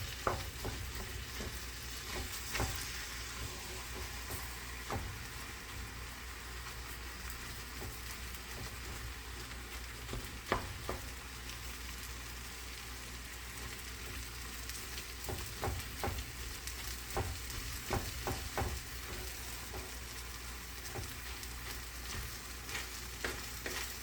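Scrambled tofu sizzles continuously in a frying pan while a utensil stirs and presses the chunks down, making scattered scraping clicks and soft squishes over the steady crackle, close and fairly quiet.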